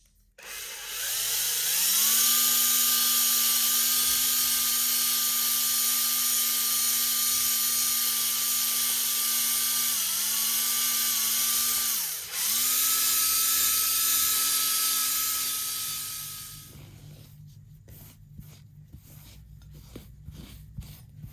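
A steady, high-pitched whine of a drill spinning a polishing ball against a metal Honda moped sprocket, running continuously with a brief dip midway, then winding down.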